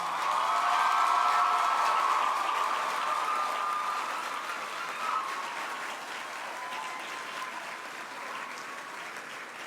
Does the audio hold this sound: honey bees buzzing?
no